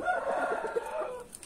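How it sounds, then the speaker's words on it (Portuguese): A hen clucks and grumbles in a drawn-out, murmuring run at close range, a backyard bird after a scuffle, with no one talking. "E a galinha que brigou."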